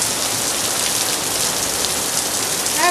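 Heavy rain pours down steadily in a dense, loud hiss close by, with a brief faint tonal chirp near the end and no talking.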